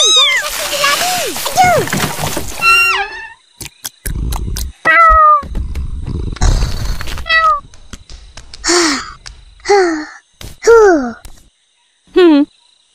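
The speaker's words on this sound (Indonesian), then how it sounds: "Seronok mandikan kucing." A cartoon cat meows repeatedly while being bathed, with splashing water and gasps, as children's voices talk and exclaim throughout. The meows are loud, close and come in short separate bursts, some quick and rising, others longer and drawn out.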